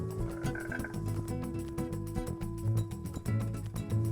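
Frogs croaking in Minecraft, a steady run of repeated croaks over game background music and ambience, loud and close throughout.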